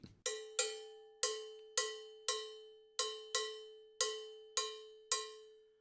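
Sharp metallic cowbell hits tap out a 2-3 clave pattern for rumba guaguanco, two strikes followed by three, repeating steadily for about two cycles. The bell is close, bright and unaccompanied.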